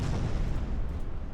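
A torpedo strikes an enemy ship in the naval game Ultimate Admiral Dreadnoughts, producing a brief, heavy booming explosion with deep rumbling low end that fades slightly over about a second.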